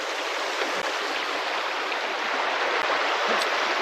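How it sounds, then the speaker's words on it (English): A river in John Day country rushes steadily, a broad, even wash of flowing water close by and continuous, with no talking over it. "River slowly waking up."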